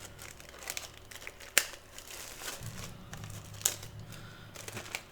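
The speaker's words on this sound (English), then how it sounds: "So let's get this unwrapped and take a look at it real quick here." Renogy Phoenix 100 power bank being unwrapped from its packaging, with close crinkling and tearing of wrap in short irregular bursts and a few sharp crackles, no talking.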